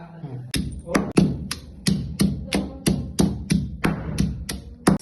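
Garlic and onion are pounded in a steady rhythm of about a dozen loud, close, hollow thuds, evenly spaced at roughly three blows per second.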